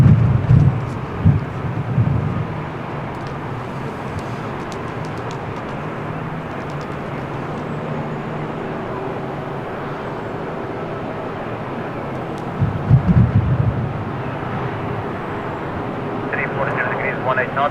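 A Portuguese Air Force C295 turboprop at Lisbon Airport in windy weather gives a steady distant engine drone, overlaid with gusty wind buffeting the microphone and brief bursts of speech.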